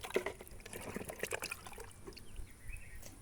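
Water mixed with fertilizer is poured at the base of a hibiscus plant. A soft, faint trickling and splashing comes from close by, unevenly, with no talk.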